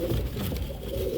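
An original Lal Gajre Tenali breed pigeon, an Andhra Pradesh breed, coos in a low, steady, close rumble with no pauses through the short stretch.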